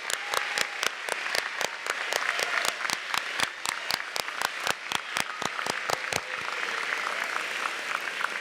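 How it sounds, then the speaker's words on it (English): Graduation audience of parents, grandparents and family members claps in sustained applause, with a few sharp near hand claps punctuating the steady crowd wash throughout. "So help me applaud y'all."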